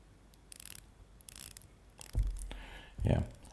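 A Seiko Prospex Sea GMT SPB381J1 watch bezel turns with a few soft, smooth ratcheting clicks held close, followed by two louder handling thumps, with a voice faintly present.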